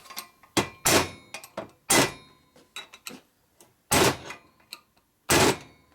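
Hammer peening a part from a 1983 FLTC 80ci shovelhead engine rebuild, a series of sharp, loud metallic strikes at irregular intervals with quieter taps between them, close up.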